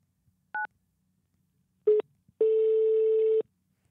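A handful of telephone keypad tones in an automated phone menu: one short dual-tone beep, then a brief tone and a longer steady one after a pause, clear and alone against near silence.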